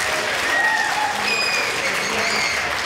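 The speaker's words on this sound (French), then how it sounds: "Applaudissements pour le président" An audience at a multicultural festival in Vevey applauds the jury president, steady crowd clapping throughout with a few faint whistles.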